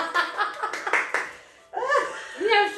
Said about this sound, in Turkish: Jasmine Hanım'ı görelim, bir alkış